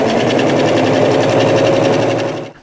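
Sewing machine running steadily and loudly while stitching the side seams of a polo-style shirt, a dense continuous whir that stops at the end.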